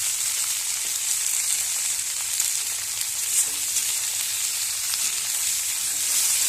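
Egg and green chilli fry in a pan with onion and garlic, giving a constant close sizzle with a faint stir or two and no voices.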